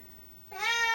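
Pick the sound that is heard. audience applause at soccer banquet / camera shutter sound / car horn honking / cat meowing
cat meowing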